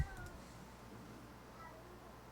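A pet cat indoors lets out a faint, drawn-out caterwaul in the background, quiet and distant, over a low room hum.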